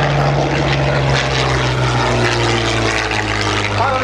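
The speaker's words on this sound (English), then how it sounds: "Hot on his tail, the P-40 following the Aichi." P-40 warbird and Aichi vintage aircraft chasing each other in a mock dogfight at a beach air show, loud continuous roaring propeller engines passing overhead with a fluctuating drone and faint distant voices.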